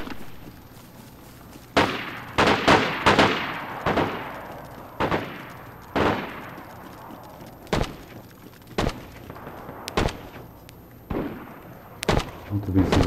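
Sniper rifle shots in the video game DayZ fire one at a time, sharp and loud, each with a long decaying echo. There are about ten over the span, spaced irregularly with some quick pairs, and faint speech sits in the background.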